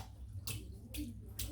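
Water wetting the black wool knot of a shaving brush, three short bursts of splashing, faint and close, separated by quiet pauses.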